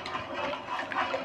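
Wheat gluten is stirred into water in a cooking pot, producing a steady, close sloshing and swirling of liquid that continues without a break.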